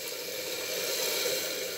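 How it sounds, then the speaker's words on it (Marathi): Water pours steadily into a pressure cooker holding moth beans for a Marathi curry, a continuous close rushing splash with no voices. "मध्ये पाणी टाकून घेऊ."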